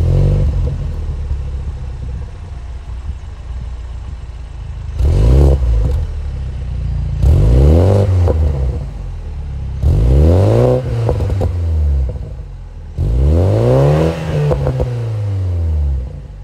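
A 2023 Toyota GR Supra 2.0 with a 2.0-liter turbocharged four-cylinder and active exhaust idles, then is revved in four distinct sweeping bursts that rise and fall, close and loud, with no talking.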